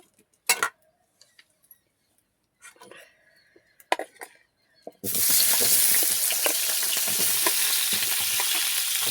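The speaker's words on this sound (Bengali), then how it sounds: "দিয়ে দেবো তেল দিয়ে ওলকপিটাকে আমি ভেজে নেব।" Kohlrabi hits hot oil partway through, bursting into a loud, steady sizzle and crackle that runs to the end, after scattered utensil clinks and quiet kitchen sounds.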